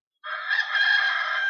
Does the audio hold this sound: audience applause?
no